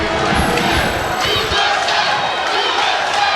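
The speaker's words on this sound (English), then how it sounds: "The chants of USA coming in." A partisan crowd at a Karate Combat full-contact event chants USA, a loud, dense mass of voices with rhythmic pulses early on, continuing steadily throughout.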